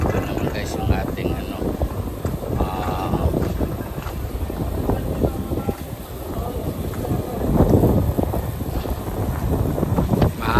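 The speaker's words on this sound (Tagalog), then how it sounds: "mahangin ngayon. Sobrang hangin." Strong wind roars outdoors near a restaurant, buffeting the microphone in steady, loud gusts that swell and ease, while people talk over it.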